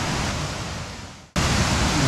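Water pours and drops down a North Shore waterfall in a dense, steady roar heard up close, briefly fading and cutting out before resuming at full strength.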